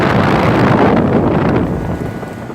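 A 2004 3-ton Rheem Corsaire central air conditioner with a large Bristol reciprocating compressor starts up in a loud, broad rushing roar that eases off slightly after a couple of seconds.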